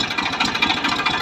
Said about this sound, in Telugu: సో గైస్ మన ట్రాక్టర్కి వచ్చి సైలెన్సర్ క్రాక్ వచ్చిందనమాట